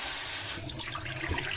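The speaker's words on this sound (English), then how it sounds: "I fill with some water, not too much" Tap water runs into a silicone slow feeder, a bright rushing stream for about half a second that then cuts to softer splashing and trickling, heard close and alone.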